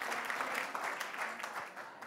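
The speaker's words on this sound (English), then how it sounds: "please give a round of applause" Warm audience applause at a panel debate event in Davos, a brief continuous wash of many hands clapping, moderately close and steady, with a few faint voices mixed in.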